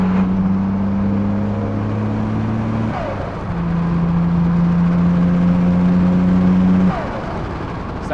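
A turbocharged car accelerating at around half throttle on 7 to 8 pounds of boost, heard as a loud, steady engine drone that climbs in pitch, drops briefly at two gear changes, then climbs again.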